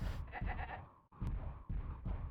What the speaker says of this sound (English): I hear sheepies.